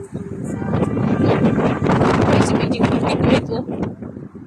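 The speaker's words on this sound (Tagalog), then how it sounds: "Malakas ng hangin." Strong wind in a garden buffets the microphone with a heavy, gusting roar, while a person speaks briefly underneath.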